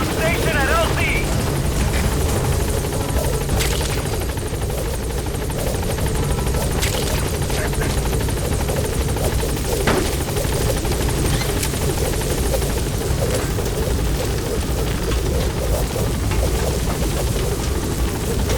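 A helicopter in the video game Metal Gear Solid V: The Phantom Pain arrives at a landing zone, its rotor roar steady, loud and close throughout, with a voice speaking over it.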